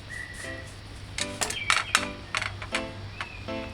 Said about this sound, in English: Now with the Scotch bonnet pepper, just cut it fine